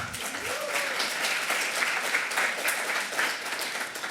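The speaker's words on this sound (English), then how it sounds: "I think that deserves a round of applause as well." An audience at a Juneteenth higher-education gathering applauds steadily, a dense wash of many hands clapping that holds at the same level for several seconds.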